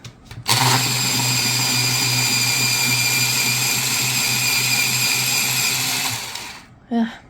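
Automatic pencil sharpener grinding an Arrtx soft core colored pencil, a steady loud whirring motor hum lasting about six seconds, close up, with a brief noise at the end.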